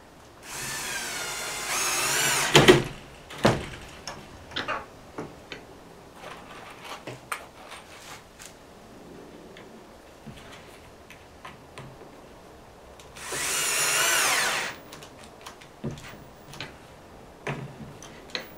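Cordless drill driving screws to fit hinges on a wooden garden gate: two loud whirring bursts, one near the start and one later, with scattered clicks and knocks from handling in between.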